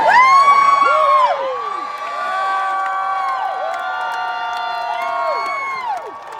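A crowd of spectators at a Renaissance Faire joust cheers and whoops loudly, with children's shouts mixed in. The roar peaks at the start, then settles into a sustained, slightly softer cheer that carries on to the end.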